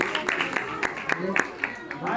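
A crowd applauds at the Vella Quaresma festival in Llinars del Vallès, with scattered hand claps of moderate loudness mixed with people talking over them.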